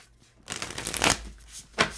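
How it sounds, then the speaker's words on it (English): Close, soft riffling of a tarot deck during a quick shuffle, one longer swish followed by a brief second burst, quiet and alone. "Let me just do a couple of shuffles."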